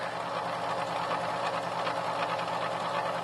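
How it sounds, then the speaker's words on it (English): A gas fireplace insert blower running in its housing, giving a steady rattling, mechanical whir with a rapid ticking pulse, continuous and close, with no talking. "you can see the blower, just kind of petering along"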